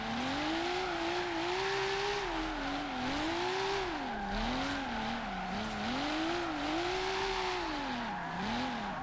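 A car drifts in Forza Horizon 3 with the engine revving hard and tires squealing continuously, its wavering pitch rising and falling through the slides, loud and steady throughout with no talk.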